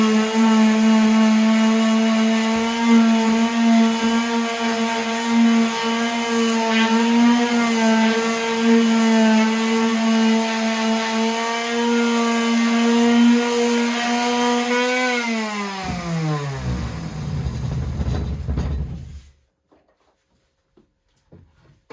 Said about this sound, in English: now I'm going to sand the top of the bench.